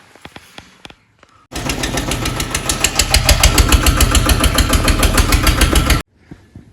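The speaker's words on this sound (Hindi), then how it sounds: "आगे ट्रैक्टर फटाफट लगते हैं भाई।" A tractor engine at a brick kiln loading site fires up and runs loud and close for about four seconds with a rapid, regular chugging knock, then cuts off abruptly; faint clicks and background noise surround it.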